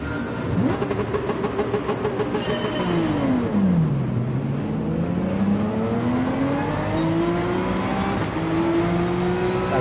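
A Ferrari race car engine in Gran Turismo 7 revs hard, its pitch dropping through a gear change and then climbing steadily again. The engine sound is loud and continuous with no talk over it.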